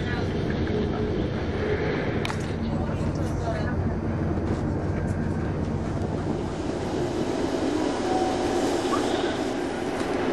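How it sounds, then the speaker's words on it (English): Grubby cross-country train from Birmingham riding the rails toward Plymouth, heard from inside the carriage as a constant rumbling roll with wind noise and faint voices throughout. "we're sitting in a grubby cross-country train that came from Birmingham"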